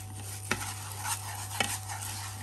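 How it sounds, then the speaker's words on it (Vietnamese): Rice roasting in a pot is stirred with two distinct scraping strokes over a steady background hum, quiet and with no voices. "Rang nó chừng nào nó vàng đây cả nhà ơi. Mình rang gạo xong rồi"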